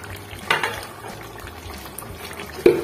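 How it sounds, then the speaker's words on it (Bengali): A covered pan of potato and cauliflower curry bubbles at a low simmer, a soft steady seething with a couple of brief lid or spoon clinks, heard up close with no talking. "কিছুক্ষণ ফুটতে দেব।"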